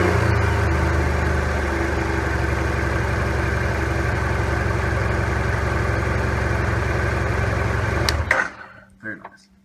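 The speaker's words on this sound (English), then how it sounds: "I'll go ahead and start it so you can see what it idles at." A 2010 BMW F650GS motorcycle engine idles close by with a steady, even low throb, then shuts off near the end, leaving a few faint clunks before silence.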